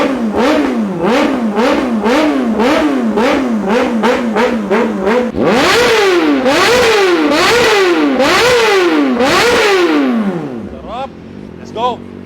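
Kawasaki ZX-4RR motorcycle fitted with a Villain R11 exhaust revving hard toward redline in repeated rising-and-falling bursts, about ten close, loud throttle blips, then settling to idle at the end.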